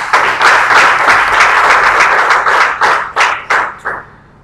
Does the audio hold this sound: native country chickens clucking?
no